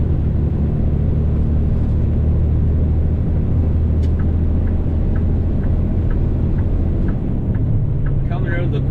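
A Kenworth T880 truck engine drones steadily as it works up through the gears while pulling out of a quarry onto a highway, a constant loud low rumble with faint gear changes, and a person talks over it.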